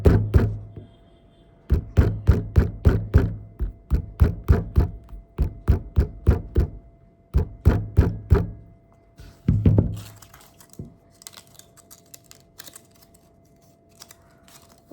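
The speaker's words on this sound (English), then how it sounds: "try hitting with a hammer to get the shape." Sharp metallic taps of a hammer striking a ball of aluminium foil in quick bursts of several hits, pausing between groups, close and crisp, followed by softer crinkling.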